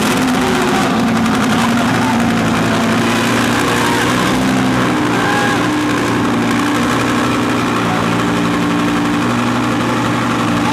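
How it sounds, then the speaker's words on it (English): An Audi R8 engine fires up and runs with a loud, rough, steady exhaust roar, close by and filling the whole stretch. "here's a quick tip for you starting up the R8"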